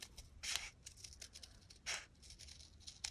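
Paper being cut around a heart-shaped paper template, likely with scissors, in a vintage-style craft setting: a few short, soft snipping bursts close by, separated by quiet gaps, with no talking.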